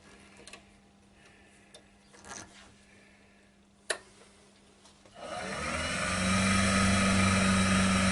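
A quiet workshop with a few light clicks and taps, then at about five seconds a wood lathe spins up a sycamore bowl into a steady whirring hum for the small homemade diamond-pointed carbide marking tool.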